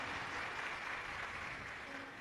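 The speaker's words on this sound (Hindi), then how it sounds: "उनके लिए एक बार जोरदार ताली बजाकर साथ" A large crowd at a Shiv Mahapuran religious discourse claps loudly and continuously, a dense wash of applause that tapers slightly toward the end.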